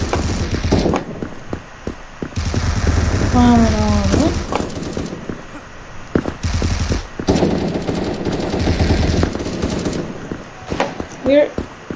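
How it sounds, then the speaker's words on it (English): Bursts of rapid gunfire in Krunker.io crackle repeatedly, mixed with game sound effects and brief quiet gaps. "Where are these gunshots coming from?"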